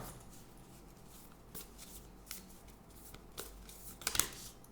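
Moonology oracle cards being shuffled by hand, a soft, close riffling and sliding that builds into a brief flurry of sharper card flicks near the end, with no talking.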